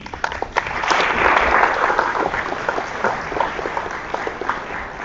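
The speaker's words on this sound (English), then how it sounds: "let's give Kevin a round of applause" A conference audience at a live business summit claps for a speaker, a dense, steady wash of applause that swells, then slowly thins.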